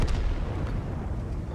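An E25 tank destroyer's main gun firing in World of Tanks, a deep rumbling boom at the start that rolls into a sustained low, noisy roar through the rest of the moment.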